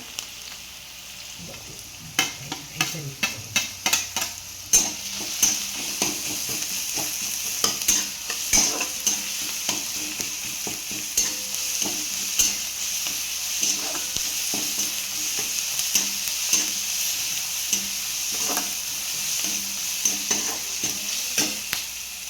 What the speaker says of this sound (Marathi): चमच्याने ते हलवून चांगलं परतवून घेऊया.